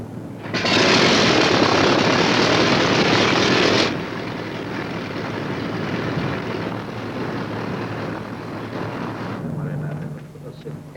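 Vintage aircraft piston engine cranks and catches with a loud roaring burst, then settles into a steady, slightly quieter running drone that continues to the end.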